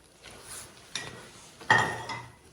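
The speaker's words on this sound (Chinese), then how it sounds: "快速把芝麻和花生叶倒进去， 快速的翻炒" Sesame seeds and peanuts are stir-fried in a pan in hot syrup for peanut brittle, with a few quick metallic scrapes and clinks of spatula against pan, close and moderately loud.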